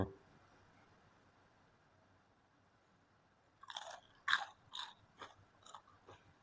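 Crispy deep-fried battered chicken being chewed close up, a run of loud, dry crunches in quick bites after a few quiet seconds.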